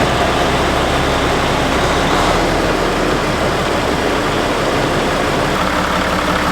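A diesel truck engine runs at a steady, loud idle close by, with a dense, unbroken rumble and no pauses or talk throughout.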